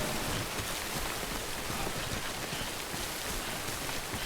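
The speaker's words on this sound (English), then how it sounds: "The rain should stop now, hopefully." Rain falling in Death Stranding, a steady, dense hiss of drops pattering on surfaces, moderately quiet and even, with no voices over it.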